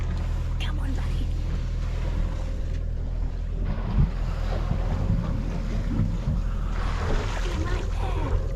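A sailboat motors under engine power with no wind off the Aleutian Islands of Alaska, a steady loud low engine drone with water wash around the hull and people talking.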